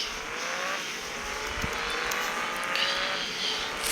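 A bus pulls away and accelerates along a road after a traffic signal in the Bus Simulator Indonesia game, the engine tone rising steadily and holding, loud and close, with faint tire and traffic noise around it.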